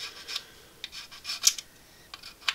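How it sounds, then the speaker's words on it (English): A part from a 1/72 Airfix Dornier Do 17Z plastic model aircraft kit being filed by hand, with a series of short, close rasping strokes in an uneven rhythm and brief pauses between them. "when filing, not to rub any important things out that you may require in the actual aircraft itself."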